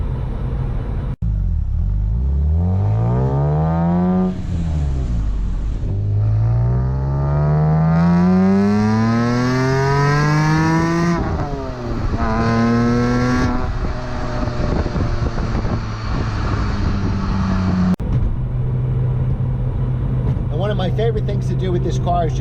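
A BMW E46 M3 with a manual gearbox driven on back roads, its engine climbing in pitch through each gear, dropping at every shift, then revving up again; loud and steady cabin drone with wind noise and someone talking.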